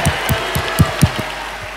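A church congregation claps hands during a sermon: a short, even run of sharp claps at roughly four per second, fairly close, over a low background hum.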